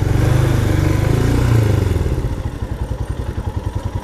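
Royal Enfield Himalayan BS6 411cc single-cylinder motorcycle, close and loud, with a deep steady drone that settles into a distinct rhythmic low thumping, no talk.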